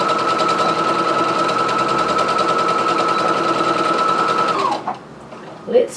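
Brother SE400 embroidery sewing machine running steadily at close range, its rapid needle chatter continuing for about five seconds, then stopping abruptly, followed by a few faint clicks.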